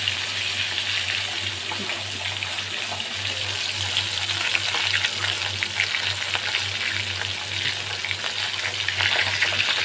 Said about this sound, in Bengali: এবার মাছগুলো আমি একটা করে ভেজে নেব